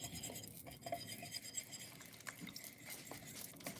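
Wet ingredients being stirred by hand into a coconut flour cake batter, with soft, steady scraping and clinking of a utensil against a bowl, quiet and close, with no talking.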